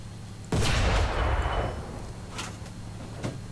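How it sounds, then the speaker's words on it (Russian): A tank cannon fires at an enemy tank in War Thunder, one loud booming shot with a rumbling tail that fades over a second, followed by a couple of fainter distant thuds. "Выстрелите по боевому отделению танка."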